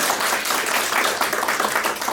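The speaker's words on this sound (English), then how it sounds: "With a round of applause" Applause from a comedy club audience at The Improv Embassy during a stand-up set, a dense and steady burst of many hands clapping close up that fills the whole short stretch with no talk over it.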